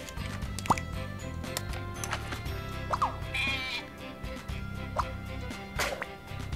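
Lamb in Scribblenauts Unlimited bleating several short times over busy looping game music and dripping, watery effects.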